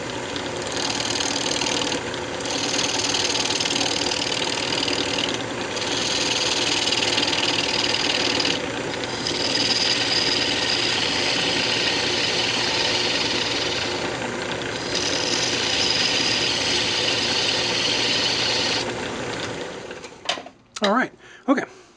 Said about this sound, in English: I'm just going to go ahead and true it up with a roughing gouge